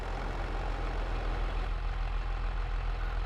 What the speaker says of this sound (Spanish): John Deere, pero me encanta cómo suena.